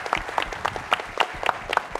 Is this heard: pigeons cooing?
no